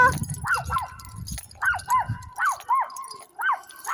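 Small dog barking repeatedly outdoors, about eight short yappy barks in quick pairs, close and fairly loud, with some rustling and a bit of talk at the start.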